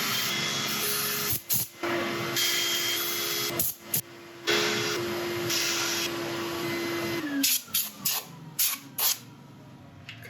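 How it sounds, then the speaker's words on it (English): A woodturning piece is sanded on the lathe, giving a steady loud whirring hum with a sustained tone and several brief interruptions toward the end. "Right, let's start sanding."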